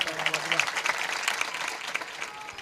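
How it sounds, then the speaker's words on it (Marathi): An audience at a kirtan breaks into brief applause with crisp, scattered claps under a speaking voice. "हवगी महाराज पन्नासे यांच्याकरता सुद्धा टाळ्या वाजवा"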